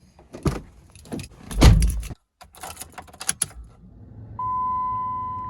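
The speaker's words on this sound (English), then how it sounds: "Now I'm going to start this Liberty up, and hopefully it does start." A Jeep Liberty starts: keys jangle and click near the ignition, a short pause, then the engine catches and settles into a steady low idle joined by a sustained electronic chime.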